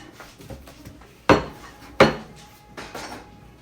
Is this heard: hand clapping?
no